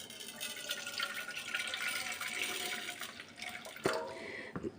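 Bajra millet grains are washed by hand in water, with continuous sloshing and trickling and a few sharper splashes near the end, close by.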